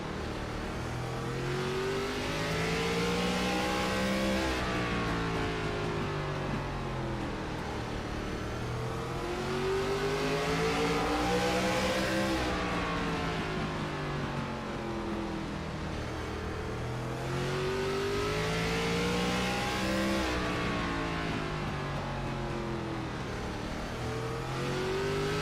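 An ARCA race car engine on iRacing at The Bullring, revving hard and then lifting off in repeated throttle cycles, its pitch climbing and falling in long sweeps as the car laps, loud and steady with no voices.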